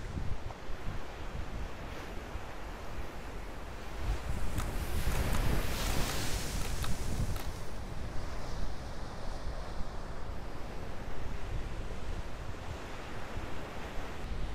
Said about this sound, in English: waiting for one of those huge waves to crash in